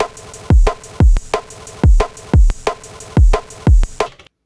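Drum machine kick pattern with filter kick boost, a steady run of punchy, booming kicks at a mid-tempo beat over a low sustained backing, with a few hits noticeably heavier, stopping abruptly.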